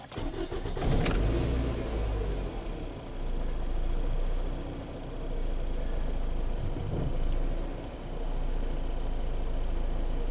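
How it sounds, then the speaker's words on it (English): A car engine cranks and starts with a sharp burst, then idles and revs in several swelling waves, close and loud with no talking. "starting the car again."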